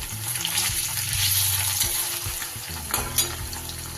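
Paneer pieces fry in hot oil in a pan for a white butter paneer dish, giving a steady bright sizzle with occasional scraping and stirring clinks close by.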